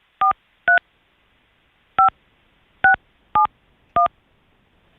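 Telephone keypad DTMF tones as a number is dialed: six short, clean beeps in an uneven rhythm, two close together then four spaced out, each crisp and isolated against silence.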